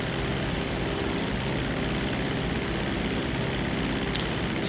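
The Mammoth Dodo seaplane from GTA 5 Online flies with a steady, loud propeller engine drone that holds an unbroken buzzing tone throughout.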